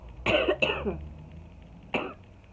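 Someone coughs twice in quick succession, then once more after a short pause, close and fairly loud.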